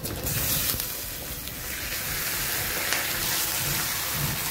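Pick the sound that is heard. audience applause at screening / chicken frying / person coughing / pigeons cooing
chicken frying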